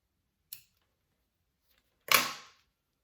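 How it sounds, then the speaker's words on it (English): Scissors snip threads on a handmade bowler bag: two short, crisp cuts separated by silence, the second louder and slightly longer, close by in a quiet room. "cut those threads"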